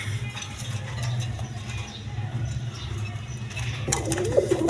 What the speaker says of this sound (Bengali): বোম্বাই কবুতর দেখেন, এটা হলুদ কালারের বোম্বাই